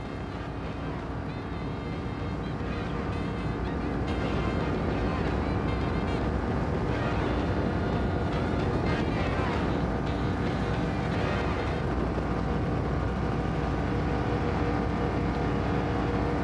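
A 24-foot Jaws offshore powerboat with a 454 Chevy engine at 5,600 RPM, a TRS outdrive and a 25-inch Mirage prop, roaring at speed. The steady engine drone is mixed with rushing water and wind buffeting.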